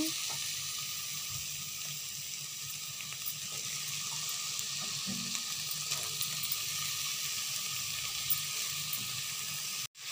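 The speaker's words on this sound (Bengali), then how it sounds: "এবার সয়াবিনগুলোকে ভালো করে পেঁয়াজের সঙ্গে হালকা হালকা ভেজে নিতে হবে, যাতে হালকা হালকা ব্রাউন কালার আসে।" Soybean chunks frying with onions in a pan give a steady, close sizzle throughout, with faint scattered clicks and no talk, ending in a brief knock.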